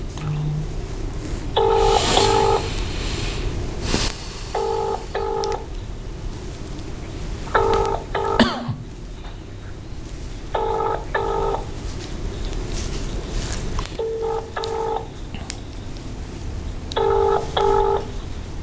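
An outgoing phone call to a government minister goes unanswered while a ringback tone repeats in paired beeps about every three seconds, six times over, under a steady background hum and some talk.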